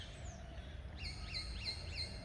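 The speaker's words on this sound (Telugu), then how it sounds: "పక్షులు, కిలకిల రావాలు" Small birds chirp in a quick run of four rising-falling notes, faint and somewhat distant in a quiet green countryside, over a low background hum.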